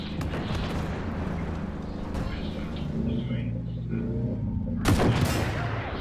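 Combat in a video game: a muffled rumble of distant gunfire and booms persists under a voice, with a sudden loud blast burst near the end.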